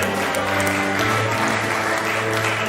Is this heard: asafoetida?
no